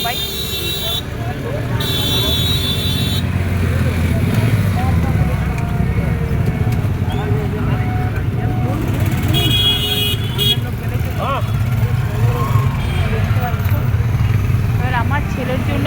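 Busy roadway with vehicles standing still in traffic, a steady rumble of idling engines punctuated by several loud car horn toots; someone talks over the din.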